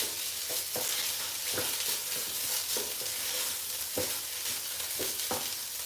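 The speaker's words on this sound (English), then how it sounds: "So I'll just keep on frying like this." Rice frying in a pot with Nigerian meal prep, a steady bright sizzle underneath, broken by repeated short scraping knocks as it is stirred every second or so.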